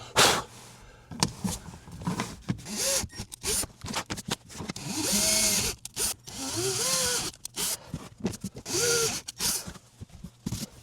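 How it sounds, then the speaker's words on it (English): A power drill drills into a Toyota Tundra in short, repeated bursts, its whine rising and falling in pitch as it bites, with brief pauses between runs. "so I am drilling very carefully"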